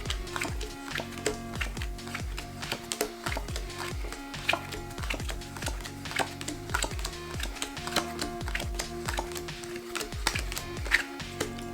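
Playing cards are dealt one by one onto a table into three piles during a magic trick, giving a quick run of sharp, close, evenly paced slaps and flicks with no talk.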